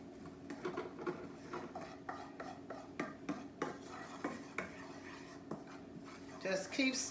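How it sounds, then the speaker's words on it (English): Dry flour scraped and stirred around a pan with no oil, browning for a crawfish and rice dish, in a steady run of close, rasping strokes with occasional utensil knocks, while someone talks over it. "Just keep stirring, guys, until this flour get brown."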